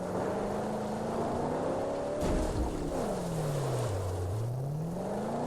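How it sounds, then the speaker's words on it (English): A car engine in the Mad Max video game drones and revs, its pitch climbing, then dropping low and rising again, loud and steady with a brief crunching burst partway through. "I've made her purr with delight."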